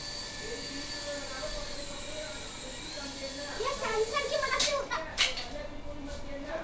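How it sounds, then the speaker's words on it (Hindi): A small sensor-controlled toy helicopter, a Santa gift, whirs steadily indoors with a thin, high motor buzz. People talk over it, and their voices grow louder near the end. "सेंसर की मदद से ये उड़ता है हेलीकॉप्टर"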